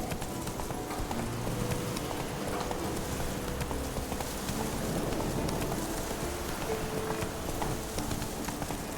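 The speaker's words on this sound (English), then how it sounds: "Run, Roach. Slow now. Whoa." Horse hooves clip-clop at a steady gait in a video game, continuous and close, over a soft rain-like ambience.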